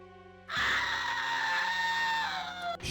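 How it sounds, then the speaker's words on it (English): The classic Snow White scream effect from the Walt Disney film, a single loud, sustained high-pitched female scream that bursts in abruptly and holds for about two seconds before cutting off. "that scream everybody heard there, that is the scream from Walt Disney's Snow White"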